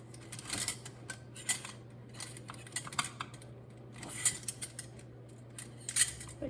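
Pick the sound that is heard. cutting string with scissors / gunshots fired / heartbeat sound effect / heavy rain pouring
cutting string with scissors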